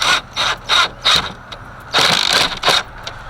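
A ratchet drives screws while car speakers are installed, heard as a series of loud, close bursts of rapid clicking with short pauses between them, and no voices.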